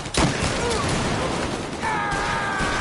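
A grenade blast in the Mafia Definitive Edition game: a sharp, loud burst near the start, followed by rumbling debris and battle noise, then a ringing tone.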